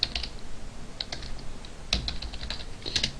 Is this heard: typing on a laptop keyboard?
yes